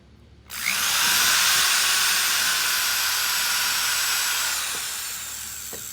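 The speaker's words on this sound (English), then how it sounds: "I really don't want to drill a hole through my table." A power drill starts abruptly and whines steadily at high speed while drilling a hole, loud and close, easing slightly toward the end.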